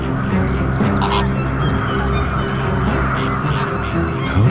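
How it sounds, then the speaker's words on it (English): A clamoring crowd of young flamingos gives a dense, continuous wash of honking, goose-like calls, loud and close, overlapping with no pauses throughout. "clamoring horde of young flamingos"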